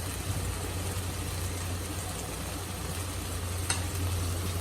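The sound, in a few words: frying masala with chilli powder and salt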